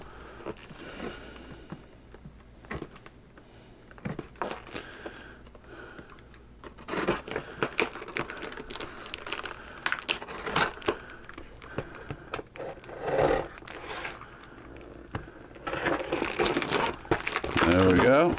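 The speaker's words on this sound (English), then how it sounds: "let's cut the tape on this one." Cutting the packing tape on a white cardboard box while unboxing a VIVO V002 dual monitor desk stand: crinkling, scraping and tearing noises mixed with handling of the box and packaging, under intermittent talking.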